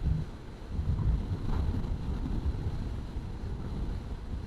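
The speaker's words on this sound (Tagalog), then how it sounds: "Lakas ng hangin." Strong wind buffets the microphone while a rider travels solo on a motorcycle on a Mindoro loop road; steady, loud low rumbling gusts roar throughout without letup and no voices are heard.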